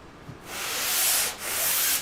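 Hand sanding of a painting canvas: two long, close rasping strokes of sandpaper across the surface, alone with no talk.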